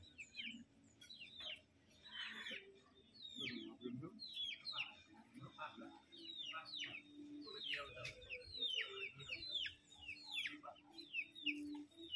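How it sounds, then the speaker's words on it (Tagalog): Chickens cluck and birds chirp in a steady stream against a quiet outdoor background, with faint voices now and then. "may alaga na kong manok dito"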